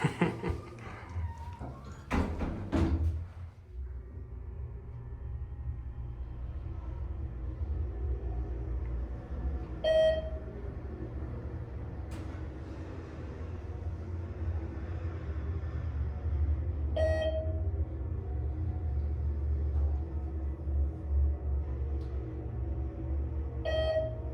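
Low steady rumble of a 2011 ThyssenKrupp hydraulic elevator riding up to the third floor in Green Hall, Washington University in St. Louis, with a few brief beeps or dings spaced through the ride and a knock early on.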